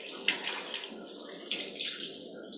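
Running water rinses soot off a drawing board being washed without soap, a steady, close splashing stream with faint spatters and no talk.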